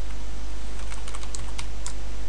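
Keys clatter on a computer keyboard in a quick irregular burst of about ten taps over a steady hum, close by.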